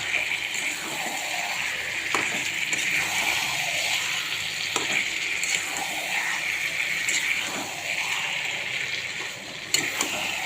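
A bay leaf sizzles in hot oil in a frying pan, a steady close crackling hiss running throughout with scattered stirring clicks and scrapes.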